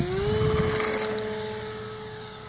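A tiny foam board and wire trainer RC airplane with taped-on landing gear taking off in a light breeze, its electric motor giving a loud steady whine that slowly fades as it pulls away.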